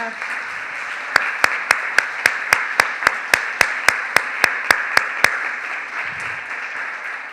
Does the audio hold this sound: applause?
yes